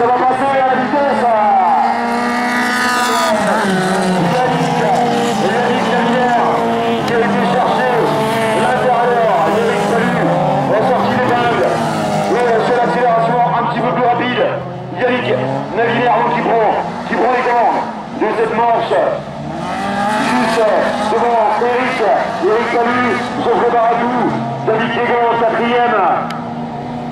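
Race cars run side by side out of a hairpin at a 1600-class round in Saint-Jean, engines screaming and revving loudly under constant excited commentary throughout.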